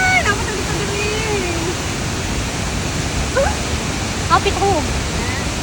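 Waterfall at a set of falls, a steady broadband roar of falling water filling the scene close by, with people talking and calling out over it.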